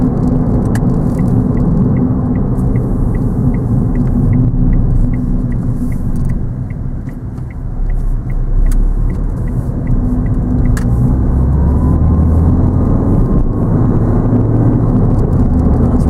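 A car rounds a roundabout on a sunny day during a driving lesson, heard from inside as a steady, loud low engine and road rumble that dips briefly midway before swelling again, with no talking.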